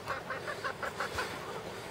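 Chickens cluck inside a heated coop, a run of short, rhythmic clucks repeating at close range over steady background noise.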